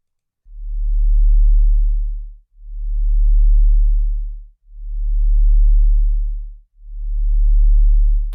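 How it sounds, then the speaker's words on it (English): Sub bass sine wave drone in Absynth, pitched down two octaves, swelling and fading in four slow, even pulses from an LFO on volume, deep and steady with no other sounds. "It's a sub bass"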